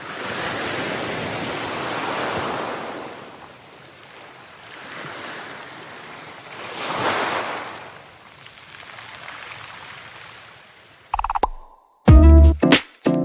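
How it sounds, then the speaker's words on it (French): Ocean waves surge and recede in broad, rolling swells of noise, with wind in the background. The sound ends in a brief burst of music. "Le bruit des vagues à l'océan"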